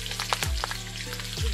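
Whole spices such as coriander, cumin, fennel and peppercorns hit hot oil in a Bengali boiled mixed-vegetable dish, crackling and sizzling steadily at close range with no talk.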